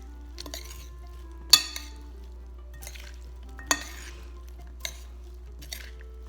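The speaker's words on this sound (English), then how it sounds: "And then with a spoon, I'm going to gently mix." A spoon gently mixes a side dish in a bowl, making a few sparse clinks and soft scrapes spread out over several seconds against a quiet background.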